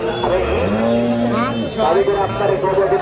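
Cattle moo close by in several drawn-out, wavering calls, with people talking in the background at Sonaichandi cattle market in Chapainawabganj, Bangladesh.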